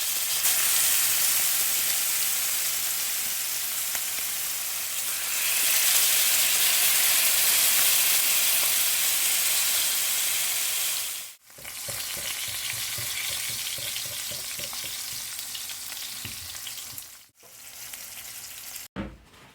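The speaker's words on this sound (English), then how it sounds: "This is the barjack fillets, all fried up and nice." Barjack fish fillets fry in a hot pan with a loud, steady sizzle and hiss that swells midway, broken by two brief sharp cutoffs, with faint clinks of stirring underneath and no talking.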